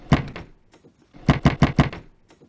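Sharp knocks on a door in a dubbed Harry Potter parody: two quick raps, a pause, then a rapid series of four or five louder knocks, close and clear with no talking.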